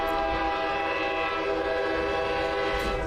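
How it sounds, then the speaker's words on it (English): A fully loaded train lets out a loud, sustained whistle at a small supply station as it lurches into motion, the steady horn tone ringing alone over the rumble of the cars starting to roll. "whistling as the fully loaded train lurches into motion, gradually picking up speed as it pulls out of this tiny supply station"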